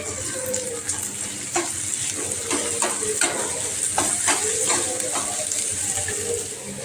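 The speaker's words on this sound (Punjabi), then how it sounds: "ਹੁਣ ਗੈਸ ਆਪਾਂ ਘੱਟ ਕਰ ਦਿੰਨੇ ਆ ਆਪਾਂ ਇੱਧਰ ਦਾਲ ਦਾ ਤੜਕਾ ਧਰੀਏ" A tadka for dal sizzles in a pan over lowered gas, making a steady, moderately loud frying hiss broken by short bursts of spattering and crackle throughout.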